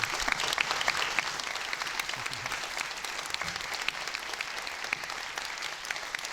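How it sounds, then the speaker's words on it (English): A town hall audience gives a steady round of applause, many hands clapping together in a continuous, somewhat distant wash of sound that carries on without a break. "I want to give Ruzba a round of applause."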